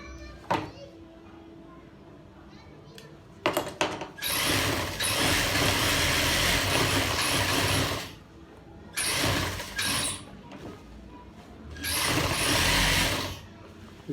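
An electric sewing machine stitches a baby girl's suit in several bursts of fast, steady whirring, separated by pauses with clicks and handling noises.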